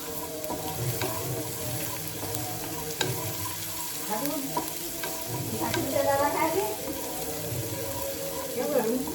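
Garlic and ginger fry in a pan with soybean pieces, a continuous close sizzle with stirring scrapes and clinks, while a voice speaks intermittently underneath.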